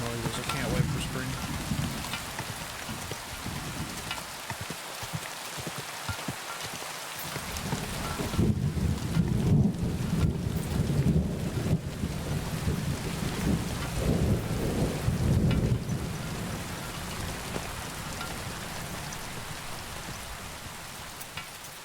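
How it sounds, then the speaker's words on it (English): Rain falls steadily and thunder rolls in long low rumbles during a thunderstorm in the video game Kingdom Come: Deliverance II, the storm swelling midway and easing toward the end. "God, I love the thunderstorm noises."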